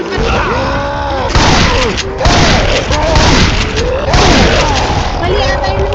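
Video game gunfire and booming blasts are aimed at a tank in a loud, dense barrage of repeated impacts, with voices shouting over the shooting.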